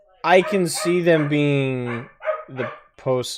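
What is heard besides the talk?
dog barking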